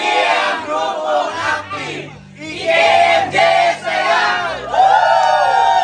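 A loud, busy crowd of people talking over one another at a resort on Talim Island, lively overlapping voices filling the room.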